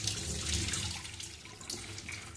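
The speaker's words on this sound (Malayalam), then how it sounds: "പരിപ്പ് നമുക്ക് ഊറ്റി വെള്ളം കളയാം" Water drained from soaked lentils (parippu) through a strainer at a kitchen sink, a soft, steady splashing trickle with a few drips, fairly quiet and close.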